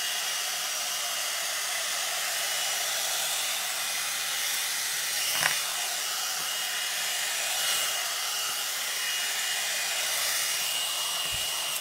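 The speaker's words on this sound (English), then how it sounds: "this is way lighter than a hairdryer is, and I love that it brushes" A hot air brush hair dryer blows a steady, loud airy hiss close by for the whole stretch, with only slight changes in pitch as it moves.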